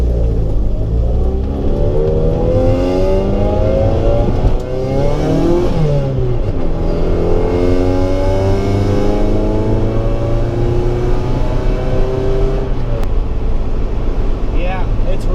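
A 1990 Honda Civic EF hatchback on new coilovers builds speed toward highway pace, its engine and steady road and tire roar running continuously from inside the cabin as people talk over it.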